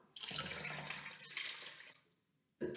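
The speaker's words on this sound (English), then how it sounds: "I need to pour it all out." Water pours out of a jar in a steady, splashing gush for about two seconds and then tapers off, followed by a brief knock at the end, close and with no voices.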